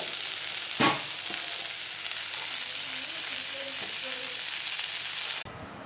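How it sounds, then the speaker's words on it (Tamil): Koozh vathal and onions frying in a pan, a steady close sizzle with stirring and a sharp clatter near the start, ending abruptly into quieter background. "கூழ் வத்தல், வெங்காயம் போட்டு வதக்குறாங்க."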